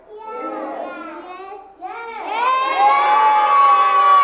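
An audience of children at a clown magic show yells and shouts excitedly together, the voices rising into a loud, sustained, high-pitched collective scream that fills the space for several seconds.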